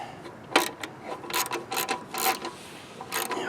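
A ratchet wrench clicks in short bursts while loosening a 1/2 inch bolt on a Craftsman push mower, close and fairly loud, with quick repeated ratcheting strokes separated by brief pauses.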